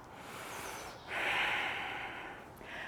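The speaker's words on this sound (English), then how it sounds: "Cleansing breath." A single loud cleansing exhale through the nose and mouth during a yoga breathing exercise, a broad breathy rush swelling up and fading, with a shorter breath following at the end.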